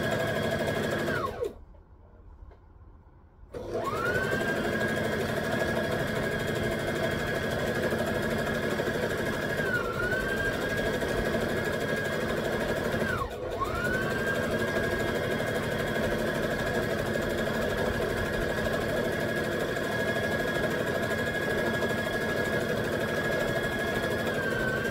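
A sewing machine stitching a wrap skirt runs with a steady whirring hum, close and continuous, stopping once briefly near the start and dipping for a moment later.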